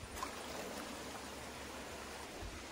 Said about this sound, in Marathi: हा पाण्याचा प्रेशर बघा जास्ती आहे